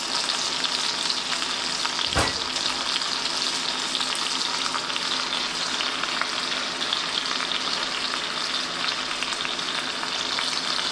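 Carnitas pork crisps its fat in a pan, a continuous even sizzle and crackle heard close, with one brief sharp clack early on and no voices.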